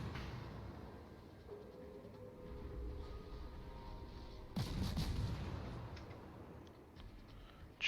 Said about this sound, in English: I'm just going to start throwing shots into the smoke screen, just harassing fire